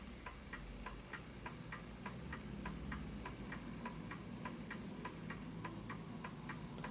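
A Smiths Enfield oak pendulum mantel clock ticks steadily and faintly, with slightly uneven tick-tock spacing over a soft background hiss.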